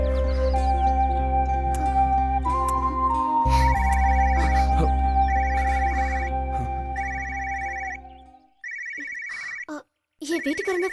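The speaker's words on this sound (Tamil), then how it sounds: "என் வீட்டுக்காரன் தான் ஃபோன் பண்றா" A mobile phone ringtone plays a repeating electronic melody in short bursts, loud and close, first layered over a sustained music score and then ringing alone after the music cuts out.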